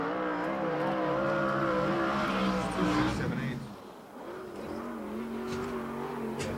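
Sprint cars racing on the Perris oval during the USAC/CRA Oval Nationals, engines roaring loudly with harmonic revving that dips briefly mid-way before surging again, a voice talking over the engine noise.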